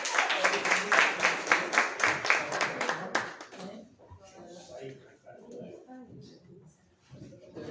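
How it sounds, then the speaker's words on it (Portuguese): Applause breaks out at an award ceremony of a trovador poets' academy, sharp and rhythmic for about three seconds, then dies away as people talk and murmur nearby. "Salva de palmas, por favor."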